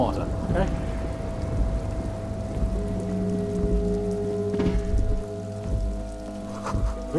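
Steady rain falls at a harbor in the video game Disco Elysium, a continuous patter spread under sustained, droning musical tones that run throughout.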